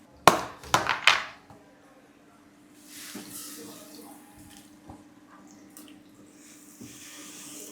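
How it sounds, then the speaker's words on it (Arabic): Orzo pasta tipped into a second frying pan gives a few sharp, rattling bursts up front, then settles into a soft, steady sizzle that stays fairly faint. "نبتدي ننزل برضو بلسان العصفور في الطاسة التانية."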